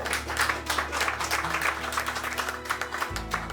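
Audience applause for the owners of a theatre and cafe, steady dense clapping throughout with a low hum underneath, ending in a brief shift of background tone.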